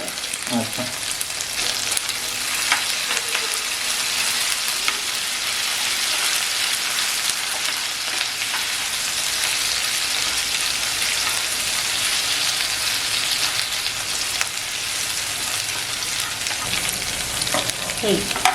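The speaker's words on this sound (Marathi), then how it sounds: "हे आलं लसूण आणि ज्याचं वाटण केलंय ना ते आपण तेलामध्ये टाकतोय" Ginger-garlic paste dropped into hot oil in a pan for prawn tawa fry: a loud, steady rain-like sizzle and crackle that persists throughout, with a few brief stirring scrapes near the start and end.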